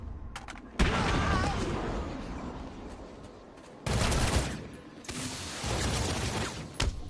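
Gunfire in Batman: Arkham City comes in three loud, sustained bursts with short quiet gaps between them, sharp cracks close up in a chaotic exchange.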